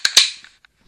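A toy cap gun fires twice in quick succession, two sharp loud cracks with a ringing tail, followed by faint mechanical clicks of the toy's mechanism.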